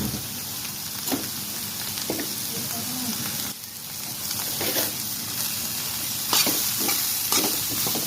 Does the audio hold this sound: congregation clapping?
no